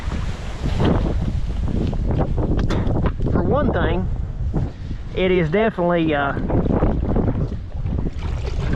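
Heavy wind buffets the microphone in steady roaring gusts while kayaking on a cold, icy river. Someone talks throughout, partly under the wind.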